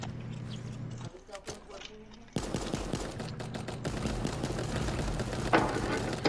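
Video game gunfire erupts in rapid bursts and single shots, mixed with other game effects, while players talk excitedly over the action.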